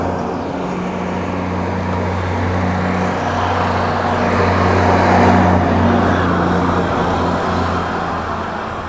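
A heavy truck passing on a nearby road, a loud low rumble that swells toward the middle and slowly eases away, with no talking over it.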